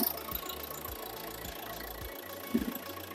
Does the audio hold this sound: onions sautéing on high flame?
no